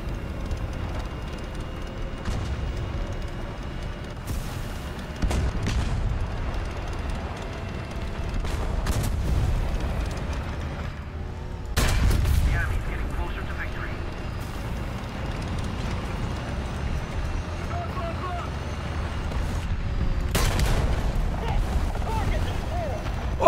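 Heavy tank cannon shots boom out in a tank combat game, a few loud broadband blasts at irregular intervals over a low rumbling battle din, with a player talking over it.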